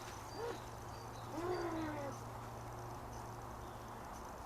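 A playful pet kitty gives a couple of short, soft meow-like chirps over a steady low background hum, indoors and fairly quiet.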